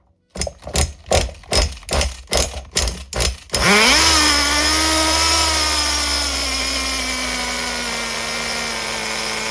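HPI Nitro MT2 RC truck's small nitro engine, being started with a series of rapid pull-start bursts, then catching and revving into a loud, steady high-pitched whine that holds on with slight pitch shifts.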